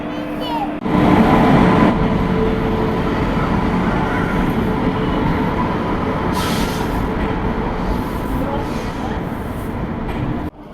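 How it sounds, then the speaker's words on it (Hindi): Mussoorie Express train at an Indian railway station, a steady loud rumble and rolling clatter of coaches close by, with crowd noise and voices mixed into the din. "ये जो ट्रेन देख रहे हो this is called Mussoorie express"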